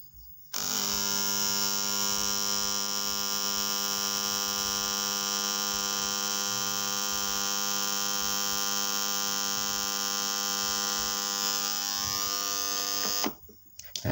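A hand-wound 3 amp transformer switched on gives a steady, loud electrical hum with a strong buzzing tone that holds evenly for about thirteen seconds before cutting off.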